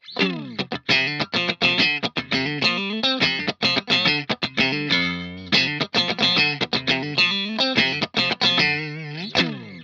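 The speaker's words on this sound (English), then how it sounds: "we'll run through the clean channel of the Victory Kraken and we'll engage the Guptech Mad Shoe as a sort of boost" An electric guitar runs through the clean channel of a Victory Kraken MKII amp, boosted by a Guptech Mad Shoe pedal, playing a busy riff of quick, gritty, driven notes, close and dry.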